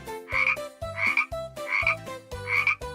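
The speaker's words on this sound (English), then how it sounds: "Ribbit, ribbit. That was a frog." A frog croaks four times in a steady rhythm, each call a rasping, buzzy croak standing alone, close and clear.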